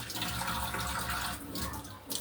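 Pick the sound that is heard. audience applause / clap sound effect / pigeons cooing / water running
water running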